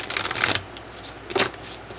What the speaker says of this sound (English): I want to pick out a couple more cards from my Psychic Tarot deck.